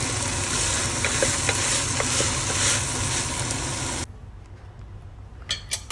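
Khichdi cooks in a pan with a steady, close stirring and frying sizzle for about four seconds before it cuts to a quieter background with a few faint clicks.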